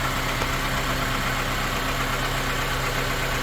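A car engine idles steadily with a damaged muffler resonator, heard from a short distance as a constant low rumble with a faint tonal drone and no breaks.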